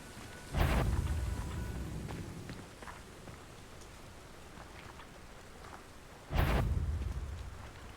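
Steady rain falling in the video game Hogwarts Legacy, a soft continuous hiss at low level, broken by two sudden louder whooshing bursts that swell and fade.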